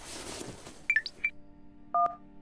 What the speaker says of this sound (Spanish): El móvil llama...